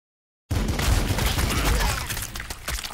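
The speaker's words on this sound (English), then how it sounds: "Oh, they're firing at us." Dense, continuous gunfire and battle noise from the Warhammer 40,000 Sanctus Reach video game starts abruptly and holds loud and steady, with rapid overlapping shots and booms, easing slightly toward the end.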